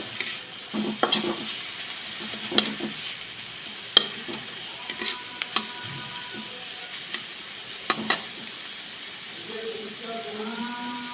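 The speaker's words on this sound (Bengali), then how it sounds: "আমি কড়ার মধ্যে তেল দিয়ে পেঁয়াজগুলো আগে ভেজে নিচ্ছি" Onions frying in oil in a wok for a quick ridge gourd dish, a steady soft sizzle with scattered clicks and scrapes of stirring, close by and alone.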